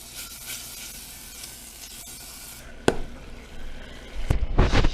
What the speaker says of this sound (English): I'm just going to put the dipper right on the hot burner